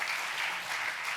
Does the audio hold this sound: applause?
yes